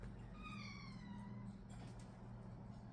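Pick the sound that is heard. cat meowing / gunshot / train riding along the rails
cat meowing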